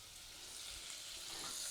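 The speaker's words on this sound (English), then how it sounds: "So just melt your butter nice and gently" Butter melting gently in a pan for a gluten-free white sauce, giving a soft, steady hiss and faint sizzle that builds slightly and stays quiet throughout.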